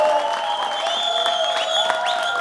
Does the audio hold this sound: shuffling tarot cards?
no